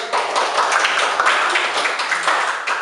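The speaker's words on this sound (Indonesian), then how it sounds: "Berarti tepuk tangan dulu untuk kelompok 1." A classroom of students claps for a student group, a dense, even patter of many hands that stays at the same level for the whole stretch, close and lively, with no voices over it.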